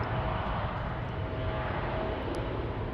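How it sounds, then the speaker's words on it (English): A 46-year-old Boeing 747SP airliner at Munich Airport gives a steady, loud, broadband engine roar that holds unchanged throughout, with no voices over it. "Wow, that 747 SP, 46 years old."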